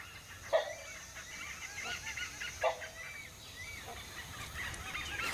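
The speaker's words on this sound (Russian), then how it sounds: "А это непальский калао." Rufous-necked hornbill in Thai forest giving a few separate honking calls, two louder ones standing out over a constant hum of insects and distant birdsong.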